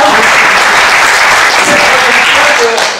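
Loud, dense applause from a seated audience at a talk, continuous and close, tapering slightly at the very end.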